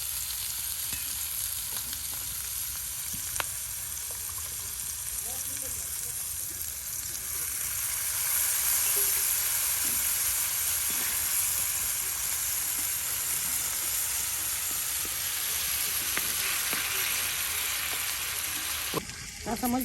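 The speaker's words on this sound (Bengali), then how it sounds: "হ্যাঁ রসুন সব একসাথে তেলের সাথে মিক্স করে নেওয়া হচ্ছে" Onion, chili and garlic paste fries in hot oil in a Bengali kitchen, a steady loud sizzle and hiss running throughout with occasional stirring scrapes, no speech over it.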